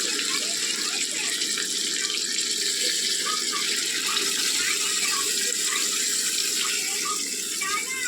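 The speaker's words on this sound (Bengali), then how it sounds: "তো চলো মশলার জলটা দিয়ে দিই।" Masala-spiced wash water poured steadily into a pot of chicken curry, a continuous close splashing stream of liquid running for several seconds without pause.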